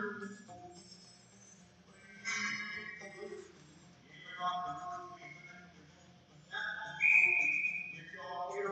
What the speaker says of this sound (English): And we'll get a whistle here with 55 seconds to go.